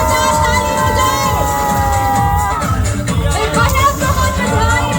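Wedding guests at a varmala ceremony clap and cheer loudly, a close crowd roar with children shouting, whoops and sustained tonal sounds over the clamour.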